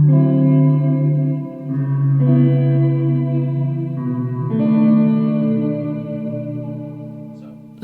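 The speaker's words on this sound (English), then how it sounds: "Lovely, lovely studio quality reverb there for me." A guitar played through the studio reverb setting of an Electro Harmonix Holy Stain pedal, with the amount and mix turned up: sustained, lush chords ring out in long, smooth tails and change a few times, no talking.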